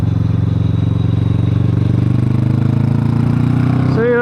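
Motorcycle fitted with a booster plug pulls hard in third gear out of a tight uphill bend, a steady loud engine drone with rising pitch near the end.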